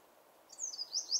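Birds sing by the water at a quiet fishing spot, a few thin, bright chirps and whistled notes arriving in short bursts over faint background hush, moderately near and without talk.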